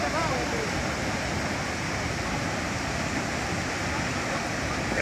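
Rushing floodwater pours down in a loud, continuous roar, dense and unbroken from start to finish.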